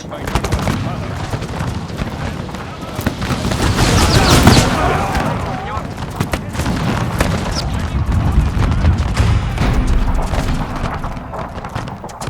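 Musket volleys crackle and boom in a Total War battle at Granada, Carlist Wars mod, loud overlapping gunfire rolling in bursts and swelling in the middle, with shouted voices mixed in.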